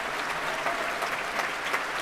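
Steady applause from a concert audience at the BBC Proms as the composer Gavin Higgins walks on stage after a National Youth Wind Orchestra of Great Britain performance; a broad, continuous wash of clapping heard from a distance.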